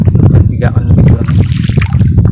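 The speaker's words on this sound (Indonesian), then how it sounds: "Anginnya kencang kali" Strong wind buffets the microphone outdoors, a loud, constant rumbling roar with gusty swells, while a person talks over it.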